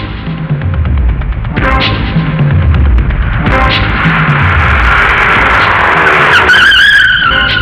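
A car pulls away hard with loud tire squeals and skidding over a revving engine, sustained and close, rising to a sharp screech near the end.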